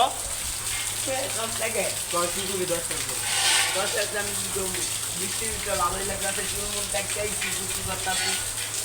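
Constant hiss of rain pouring down, with several people chatting over it the whole time.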